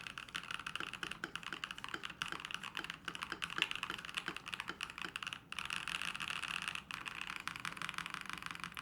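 Rapid typing on a mechanical keyboard fitted with PBT keycaps, an Ikki68 Aurora build, giving dense clacky keystrokes in an uneven flurry, close and fairly quiet, with a brief pause midway before resuming.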